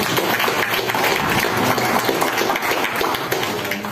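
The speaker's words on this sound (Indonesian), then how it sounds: "Tepuk tangan dong." Audience applause after a talk about a photography book, a sustained dense wash of clapping that stays loud and steady throughout with no voices over it.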